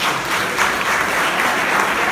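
A church congregation applauds during worship, a loud, steady, dense patter of many hands clapping close by, with no speech over it.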